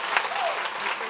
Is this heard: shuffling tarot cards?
no